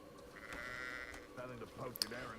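Sheep bleating in the video game Hogwarts Legacy, a few wavering bleats heard at moderate distance over soft game ambience and background music, with no talk.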